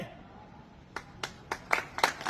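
Scattered handclaps from a small crowd of traders at a protest sit-in against a smart lockdown in Bahawalpur, starting faint and building into several sharp, uneven claps over a quiet background.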